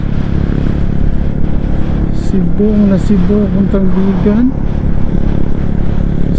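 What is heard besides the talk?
motorcycle riding on the road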